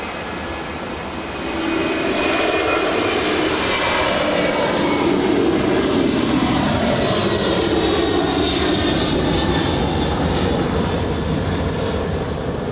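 A Delta heavy jet takes off from runway 25 left at LAX, its engines swelling to a loud, sustained roar that holds steady for over ten seconds with no voices.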